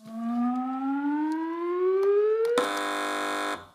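A panel show buzzer on a comedy quiz: a loud rising, whooping tone that jumps into a flat, harsh electronic buzz held for about a second before cutting off, with no talking.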